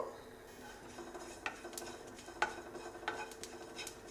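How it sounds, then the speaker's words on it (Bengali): Fennel and cumin seeds dry roasting in a pan crackle and tick in scattered sharp pops over a faint steady hiss, with small metallic scrapes, close and fairly quiet. "দেখতেই পাচ্ছেন চাটার পাটার করে আওয়াজ হচ্ছে, মানে আমাদের এটা কিন্তু রোস্ট হয়ে গেছে"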